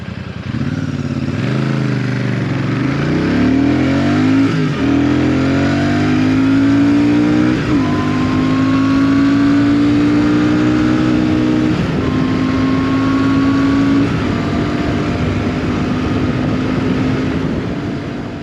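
A Royal Enfield motorcycle accelerates hard from a standstill, its engine note climbing steadily and dropping briefly at several gear changes, loud and close for the whole stretch.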